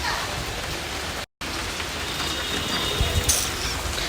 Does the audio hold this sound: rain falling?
yes